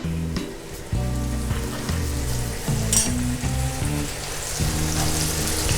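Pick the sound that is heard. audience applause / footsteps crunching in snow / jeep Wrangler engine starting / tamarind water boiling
tamarind water boiling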